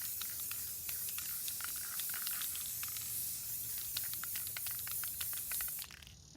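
Clear sealant sprayed from an aerosol can outdoors: a steady close hiss with rapid sputtering pulses lasting nearly six seconds, then stopping.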